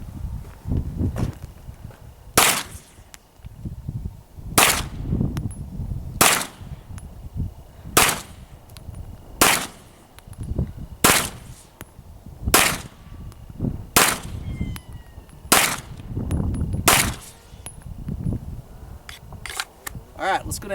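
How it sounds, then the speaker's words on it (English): An XDm 9mm pistol with a 5.25-inch barrel fired at a shooting range, about a dozen sharp, loud shots spaced roughly one to two seconds apart, with low rumble and handling noise between them. "Let's see how accurate I can be with this gun."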